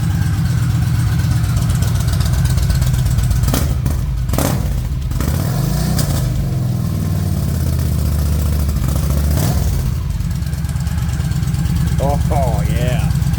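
A 2009 Yamaha V-Star 1300 motorcycle idles with a loud, throbbing low pulse, blipped a couple of times in the middle, while a person talks over it.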